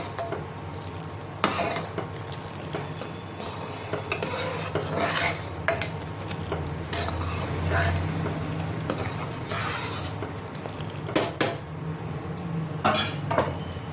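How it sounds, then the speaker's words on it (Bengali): A pot of dal cooks for dal dhokli, bubbling at a steady simmer under clinks and scrapes of a spoon stirring against the metal, with occasional louder knocks of utensils and no voices. "এই দেখুন ডাল খুব সুন্দরভাবে ফুটছে"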